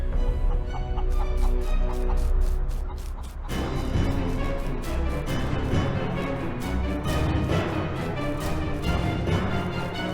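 Chickens cluck and squawk in the Naheulbeuk dungeon video game, a busy, steady flurry of bird calls over a continuous game soundscape, growing denser and louder partway through.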